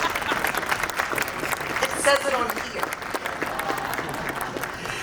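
An audience claps in steady, dense applause at the unveiling of the Times Square New Year's Eve ball, a spoken voice briefly heard under the clapping.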